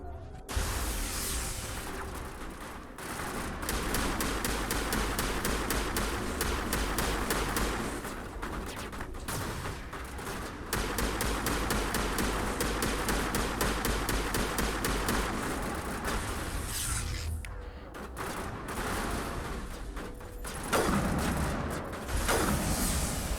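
Sustained gunfire from a Mass Effect 1 firefight, rapid repeated shots and bursts rolling on for over twenty seconds with brief lulls, fairly distant and steady.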